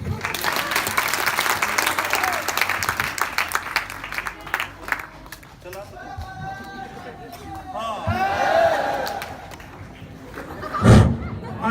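An audience breaks into loud applause that swells then fades, followed by someone speaking and a crowd cheering and chanting, ending in a sharp bump.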